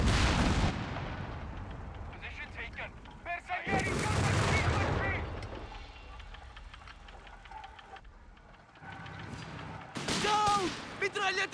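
Grenade blasts and gunfire from Company of Heroes 3, heavy booming explosions and rattling shots in loud bursts, with a commentator talking over the battle.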